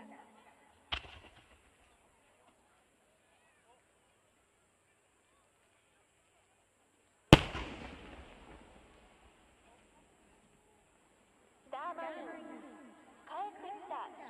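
Fireworks at the Fukuroi Enshu fireworks festival in Japan: two sharp, distant booms with long echoing tails separated by quiet, then crowd chatter and a voice over a loudspeaker.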